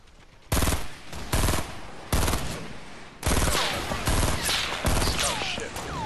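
Video game gunfire, close and loud: several bursts of rapid automatic shots with short gaps, then a longer stretch of mixed firing with faint whizzing sounds.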